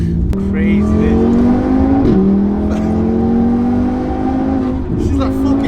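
A turbocharged VW Golf Mk6 R fitted with an RS3 engine and making 520 bhp accelerates hard, its loud, close engine note climbing steadily in pitch with a brief dip around a gear change.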